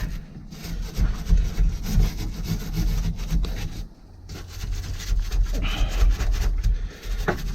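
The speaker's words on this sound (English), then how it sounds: "anytime I'm removing old bolts, and I assume these bolts haven't been out since they were put in 1966, is I like to wire brush them down." Old original 1966 VW Bug bolts scrubbed with a wire brush, a steady close raspy scraping in quick back-and-forth strokes that dips briefly in the middle before resuming.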